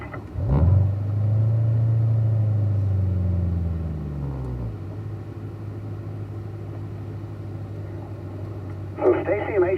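Race cars pull away in gear toward a track entrance, engines rumbling and rising, then fading out as the cars move off, with a brief mechanical rattle near the end.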